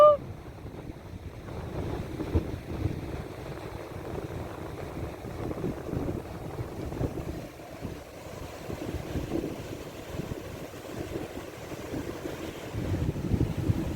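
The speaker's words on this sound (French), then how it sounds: "Il y a du vent!" Continuous wind roars and buffets against the microphone, a dense low rumble with no voices.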